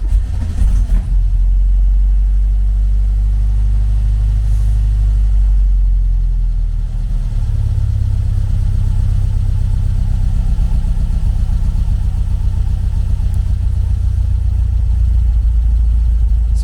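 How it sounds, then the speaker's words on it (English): A classic VW Beetle with fuel injection cranks briefly, then catches and runs at a steady, loud idle with a low, throbbing rumble that settles and holds close to the microphone. "One thing in a Beetle is annoying is you have to turn the ignition off and back on again in order to get it to crank."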